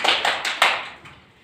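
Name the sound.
children clapping hands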